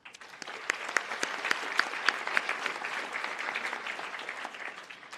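An audience claps at a 2023 senior awards ceremony, a dense, even round of applause that holds steady from start to finish.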